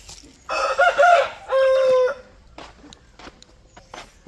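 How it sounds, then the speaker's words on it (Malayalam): A rooster crows loudly and close by, with a long drawn-out final note and brief clucking at the start, followed by quieter scattered sounds. "കോഴി എന്താ ഇവിടെ കിടന്ന് ബഹളം വെക്കുന്നേ?"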